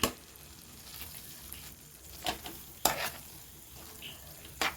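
Prawns sizzling in biryani masala in a pan, a soft steady frying hiss with a few sharper scrapes and clinks of stirring, close and moderately quiet, with no talking.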